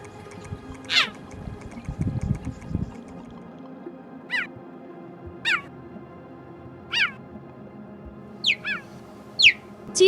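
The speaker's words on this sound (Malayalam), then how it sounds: "അവ പൂച്ചകളെ പോലെ മുരളുകയും പക്ഷികളെ പോലെ ശബ്ദമുണ്ടാക്കുകയുമാണ്" A cheetah gives a series of short, high, bird-like chirps at a steady interval, about half a dozen in all. A brief low rumble comes early on, and the chirps stand alone against a quiet background.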